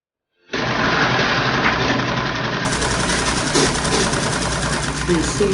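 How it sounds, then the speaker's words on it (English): A sewing machine runs continuously and loudly, stitching a half-inch seam on an A-shape long skirt, with a steady mechanical whir from start to finish. "then you continue sewing by ½ inch"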